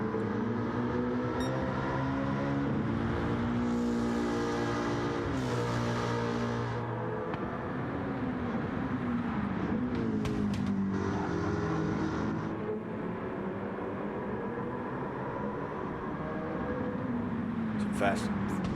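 V8 Supercars, including Ford Mustangs, race around Watkins Glen in a racing video game, with engines droning and shifting pitch steadily under continuous race commentary.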